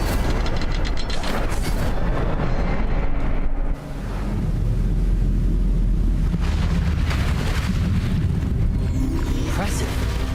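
A fiery Incendio spell blast in Hogwarts Legacy erupts as a loud, sustained roaring burst of flame and rumble, with a brief dip partway through before the noisy rush swells again, dense and close throughout.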